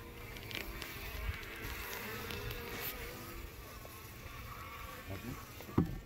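Italian honeybees swarm around an open first-year hive during an inspection, giving a steady close droning buzz that holds evenly throughout, with no voices over it.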